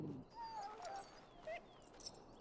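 A dog whimpering in the video game Dragon Age: Origins, a few faint, high, wavering whines spread over a couple of seconds against a quiet background.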